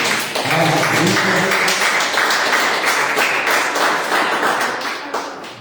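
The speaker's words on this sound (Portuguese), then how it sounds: "Se você puder dar um aplauso ao Espírito de Deus." A church congregation applauds at a Pentecostal-style worship service. It is steady, dense clapping from many hands that holds for several seconds, then fades toward the end.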